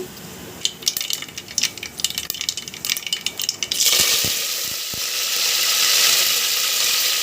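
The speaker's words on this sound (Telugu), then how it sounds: "హీట్ అయిన తర్వాత ఆవాలు జీలకర్ర వేసుకోండి ఈ పోపు బాగా వేగిన తర్వాత కరివేపాకు వేసుకుందాము" Mustard seeds and cumin dropped into hot oil for tempering a brinjal curry, first a scatter of light clicks and clatter, then a loud steady sizzling hiss that fills the rest, with no voices.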